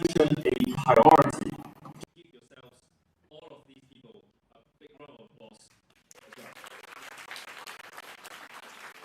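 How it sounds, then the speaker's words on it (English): Audience applause at the 2024 Community Business Asia Awards ceremony, a loud burst of clapping over the first two seconds, then sparse speech, then a softer, more distant wash of clapping returning near the end. "Give yourselves, all of these people, a big round of applause."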